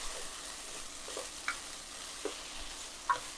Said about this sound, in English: finally got all those mushrooms in there. We're going to go ahead and start cooking those down